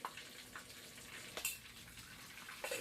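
Pork deep-frying in about two liters of hot oil under a lid gives a faint, steady sizzle with a few soft crackling spurts, muffled and distant, with no talk.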